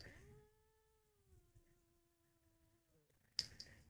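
An angry cat lets out one sustained, wavering yowl that slowly fades, followed by a short burst of hissing noise at the end.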